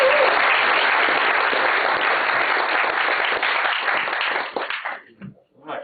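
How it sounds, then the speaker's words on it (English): An audience at a history lecture on Korean World War II prisoner of war camps gives dense, sustained applause that fades out near the end, with a faint voice following. "let's welcome Jacco with big rounds of applause"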